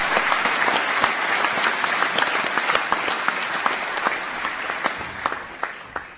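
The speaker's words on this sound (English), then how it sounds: "give them a massive round of applause" A graduation audience at a School of Science, Engineering and Environment ceremony gives teaching staff a long, loud round of applause, dense clapping filling the hall with sharp individual claps standing out before it tapers at the end.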